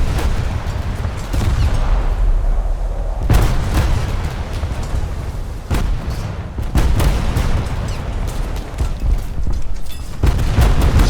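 Naval gunfire from a warship in War Thunder: heavy, booming salvos strike every few seconds over a constant loud roar of engine and sea noise.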